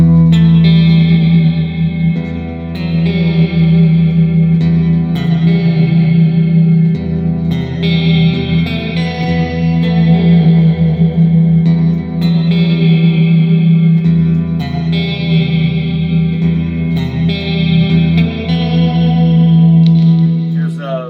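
Clean electric guitar tone through a Line 6 Helix and a Seymour Duncan Powerstage, with sustained chords and arpeggiated notes ringing loud and steady under reverb and chorus-like shimmer.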